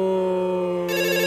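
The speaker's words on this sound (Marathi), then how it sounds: "अरे फोन वाजतोय तुझा." During a stage comedy sketch, a phone rings with a loud, continuous electronic ringtone that shifts to a brighter tone near the end.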